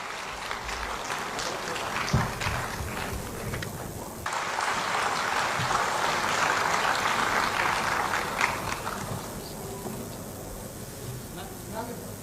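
Audience applause at a Hindi-Urdu poetry recital, a dense wash of clapping that swells and holds for several seconds before thinning out, with a voice speaking over it.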